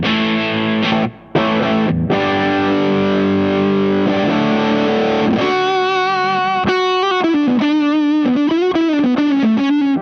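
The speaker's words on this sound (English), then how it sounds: "It's very vintage fuzz sound." Buzzy, saturated fuzz guitar tones from a Kink Pedals Retribution Fuzz pedal ring out loud, sustained chords first, then bending melodic notes with a thick distorted edge.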